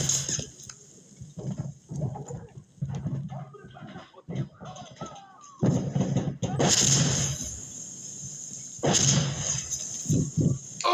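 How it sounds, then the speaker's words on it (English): Gunfire from the video game Insurgency Sandstorm crackles in sharp bursts amid game noise, with voices talking over the action throughout. "Oh, there we go. Gunfire."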